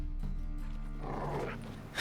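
Dogs in The Witcher 3: Wild Hunt, a muffled bark or growl over a steady ambient game soundscape, fairly faint and low.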